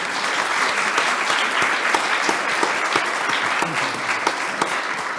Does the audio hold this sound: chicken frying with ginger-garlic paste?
no